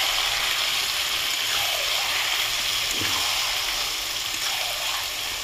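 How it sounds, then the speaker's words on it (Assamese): Marinated duck meat sizzling in hot oil in a pan, a steady broad hiss at moderate level with a few soft stirring scrapes and no talking. "মেৰিনেট কৰি থোৱা মাংসখিনি ঢালি দিয়ক ঢালি দি লৰাই দিয়ক"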